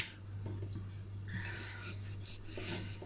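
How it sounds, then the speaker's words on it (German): A kitchen knife is sharpened during cooking, giving faint, intermittent rasping strokes over a low steady hum. "Und dann schleifst du den mal mitten mal wieder. Und jetzt wieder mal schleifen."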